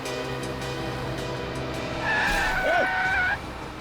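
A car on the road swerves and skids under a steady engine drone, and a loud, long tire squeal rises and falls before fading back into the traffic hum. No one speaks.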